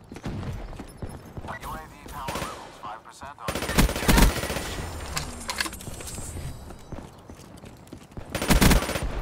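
A PPSh submachine gun fires in Black Ops 3 in rapid bursts of automatic fire. The loudest bursts come near the middle and end, with other game sounds and talk mixed in.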